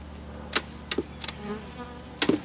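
Wasps buzz around a bee feeder jar beside a hive, heard as faint, quiet droning broken by several short, sharp bursts near the jar.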